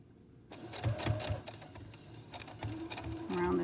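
Sewing machine stitching around the curved top of a fabric mask, a soft, close rapid chatter that starts after a brief quiet moment and keeps running with slight variations in speed.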